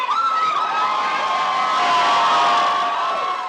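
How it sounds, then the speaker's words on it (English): A jubilant crowd cheers at an election victory celebration, a dense, steady roar of many voices with shrill shouts and whistles riding on top, loud and continuous throughout. "The mood of the crowd absolutely jubilant."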